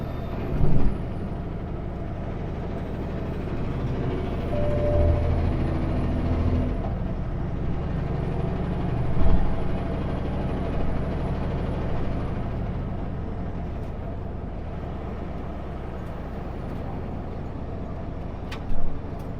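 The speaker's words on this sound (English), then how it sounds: "Probably a chip truck." A chip truck on a highway near Metaline Falls, Washington passes in a long, steady rumble heard from inside a vehicle, with several short, sharp air brake hisses spread across the clip.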